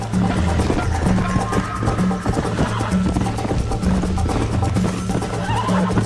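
A horse gallops during a race in the video game Red Dead Redemption. Rhythmic hoofbeats pound steadily under a rumbling, busy in-game soundscape with what may be neighs.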